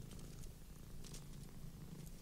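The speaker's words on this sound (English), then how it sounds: "How cats can sleep soundly even when the house is crawling with demons" A cat purrs steadily in the video game Grim Tales: Bloody Mary, a soft continuous low rumble with faint breathy pulses, heard alone without talk.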